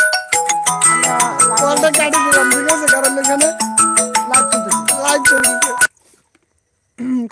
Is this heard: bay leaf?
no